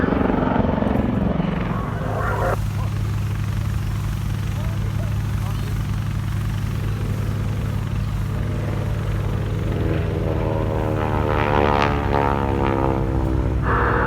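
A Westland Lynx Wildcat helicopter at an airshow, a loud continuous rotor and engine roar with a faint whine building toward the end.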